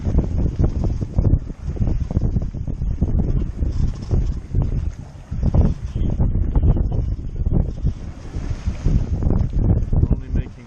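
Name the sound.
wind while sailing toward Annapolis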